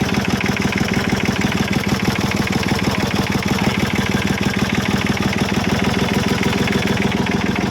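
A car engine idles steadily and loudly with a fast, even pulsing throb and a dense mechanical rumble that holds constant throughout, with no talk over it.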